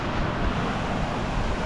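Steady wind rushes and roars against the microphone, a dense, continuous noise with no pauses and no voices.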